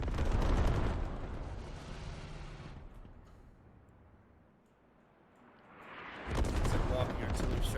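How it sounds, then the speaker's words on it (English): Repeated heavy artillery impacts walk across the map in a military video game match, loud broadband rumbling blasts at the start and again near the end with a quieter lull between, and some voice chatter mixed in. "It's a walking artillery strike by ZWD playing right on CSAT."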